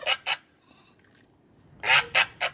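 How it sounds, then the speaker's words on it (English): A game fowl rooster calls outdoors in a chicken yard on a windy day, with two loud squawking bursts, a quieter stretch, then three more strong bursts close by. "It's my game fowl rooster."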